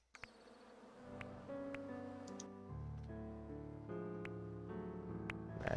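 Buzzing bees in the video game Hive Time, a low steady hum beneath light ticking clicks and soft tonal chimes, quiet and continuous.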